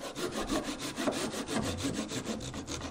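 Hand saw cutting wooden pegs off flush during restoration of an 1890 entrance gate, a steady, close rasping stroke repeated in an even back-and-forth rhythm with no talking.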